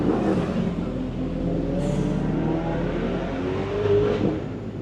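At a BMW car meet, a nearby car's engine revs and drones steadily, with a brief high whoosh partway through and the note swelling again near the end, at moderate loudness.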